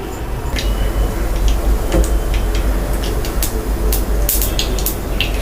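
Black mustard seeds crackle and pop in hot sesame oil for a lentil sambar tempering, with sharp, scattered bursts over a steady, close hiss.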